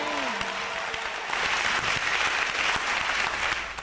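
A church congregation claps loudly in sustained applause, acclaiming the Lord, with a brief tonal voice sound at the start before the clapping fills the room.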